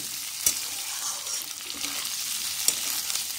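Potatoes frying in a pan for egg curry give a steady, close sizzle throughout, with two sharp utensil clicks against the pan.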